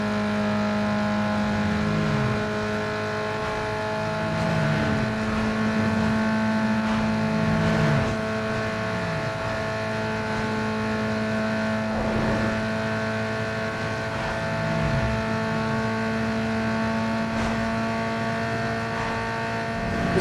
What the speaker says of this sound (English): The Corolla is pulling now